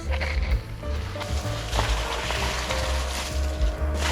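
A Pedrollini 2 hp heavy-duty submersible pump runs in water, giving a steady low rumbling hum under churning, splashing water that continues evenly throughout.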